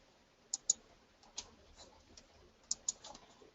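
A few quiet, sharp mouse clicks and key taps at a computer while working in Make The Cut cutting software, scattered in small pairs with soft rustling between them and no talking.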